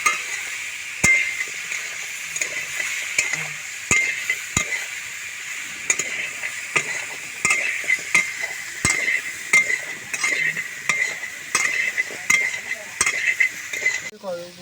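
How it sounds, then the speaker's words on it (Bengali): Soybean chunks, already fried, stirred in a pan with turmeric powder: a steady close sizzle runs throughout, broken by sharp regular scrapes and clinks of the spoon against the pan. "দিয়ে ভালো করে নেড়ে নেবো।"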